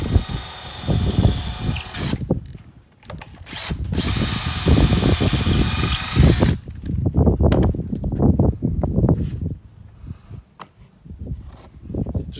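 A power drill bores pocket holes into wood for a garden bed. It whines in loud, close bursts, with knocking and handling noise between them.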